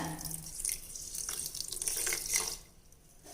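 Water poured into a pot of sugar to make syrup for boondi laddu, a steady splashing, trickling stream running for a few seconds before trailing off, with no talking.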